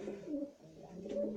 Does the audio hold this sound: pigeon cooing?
yes